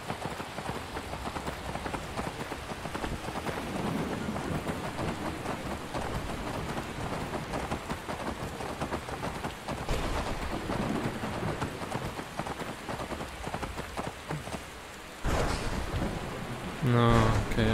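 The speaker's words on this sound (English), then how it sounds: "These thunderstorms." Steady rain from a thunderstorm in the Skyrim VR video game pours throughout, with a low rumble of thunder building near the end, while a person talks intermittently over the storm.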